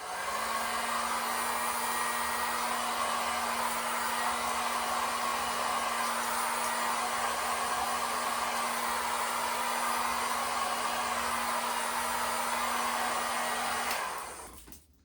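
Heat gun blowing steadily on plastic shrink wrap around a cupcake bath bomb, a constant close whooshing drone with a faint high whine that cuts off at the end.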